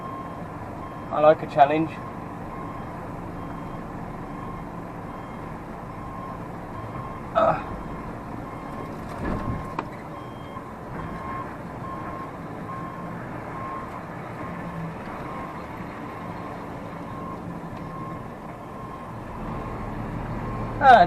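A truck reverses out onto a narrow little road, its steady reversing beeps running under a constant engine rumble while someone talks over it.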